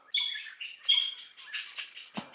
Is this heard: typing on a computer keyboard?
no